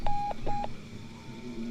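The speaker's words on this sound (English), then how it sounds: "And if I dial the last 3, the phone will ring." Two short telephone keypad dialing tones sound in quick succession, fairly clear over a quiet room background.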